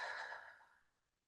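A single long exhale after a deep breath, soft and breathy, strongest at the start and fading away over about a second, close to the microphone with no talk.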